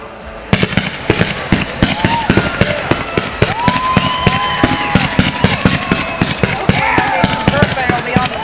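Fireworks at a backyard Headfest 2008 party, a dense rapid string of sharp cracks and booms, loud and close, with whistling rockets rising in pitch and people talking in the background throughout.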